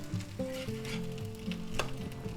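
Bell pepper cakes frying in a pan, a steady close sizzle with crackling pops and brief spatters throughout, no voices.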